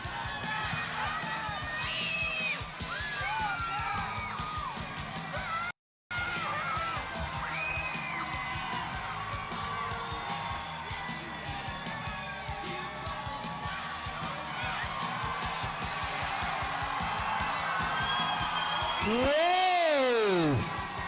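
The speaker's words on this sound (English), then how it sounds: "If you scream for your team or you boo, it's really loud" Loud roller derby crowd at a Texas bout roaring, screaming and cheering almost continuously, with whoops and yells rising near the end as an announcer's amplified voice cuts through.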